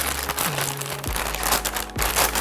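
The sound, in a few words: ASUS RX 7800 XT graphics card taken out of plastic bag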